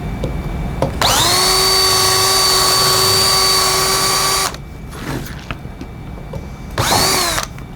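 A power drill spins up loudly and whines steadily for a few seconds, stops, then gives a short second burst after a brief pause.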